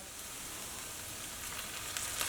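Ground beef and vegetables sizzle in a pan with a splash of soy sauce, a steady close frying hiss that continues evenly throughout with faint crackles near the end.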